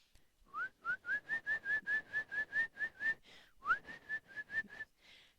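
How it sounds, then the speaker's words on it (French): A bird whistles a clear, repeated run of bright notes in quick even rhythm, pausing briefly before a second shorter burst; close and distinct, no talking. "Quand un oiseau sifflait sur la plus haute des branches d'un sapin givré"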